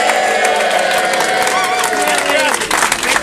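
A cruise ship reception crowd claps and cheers, a loud, dense wash of applause with whoops and shouts filling the room throughout.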